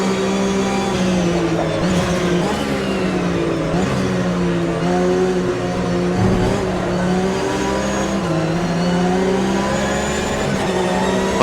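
A Porsche Carrera Cup race car in the Automobilista 2 racing game keeps a loud, steady engine drone as it revs up and down through gear changes. Brief tire squeals come through, and no one speaks.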